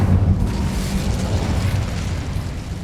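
A fire spell erupts in Hogwarts Legacy with a dense, rumbling burst that starts loud and rolls on in a crackling, fiery wash for a few seconds.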